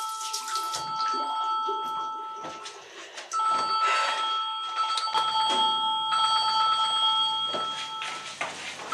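A telephone rings in an old 1950s setting, a sustained bright tonal ring sounding in long stretches with brief breaks, moderately close, over a faint background and no speech.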